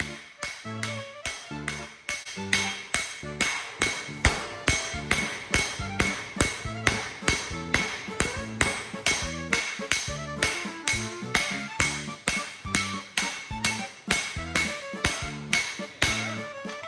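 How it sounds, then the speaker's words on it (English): Steady hammer blows ring out on an anvil as a rail spike is forged into a dagger blade, dozens of sharp metallic strikes in a quick, even rhythm, close and loud, with no talking. "now we use the flat edge of the anvil to sort of coax the shape of the dagger"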